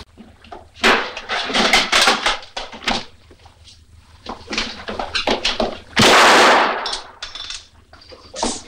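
A gun fires by accident during the Atocha massacre, several sharp bangs and clatters amid a flurry of handling thumps, one loud blast standing out midway.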